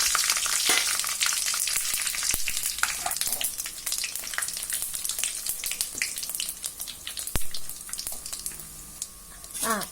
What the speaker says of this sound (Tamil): இப்போ எண்ணெய் நல்லா காஞ்சிருச்சு இப்போ இந்த பட்டை கிராம்பு ஏலக்காய் சோம்பு இதெல்லாம் போட்டு பொறிச்சிடலாம்